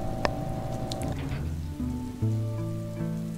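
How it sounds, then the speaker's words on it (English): Rain in the video game Braid patters softly beneath sustained musical tones, a faint steady hiss of drops that thickens slightly as the notes shift. "Look, you can hear the rain."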